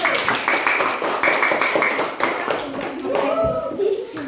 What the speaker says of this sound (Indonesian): Kelompok 1 beri tepuk tangan untuk kelompok 1.